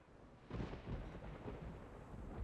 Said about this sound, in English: Thunder roars as heavy rain engulfs the neon Lincoln.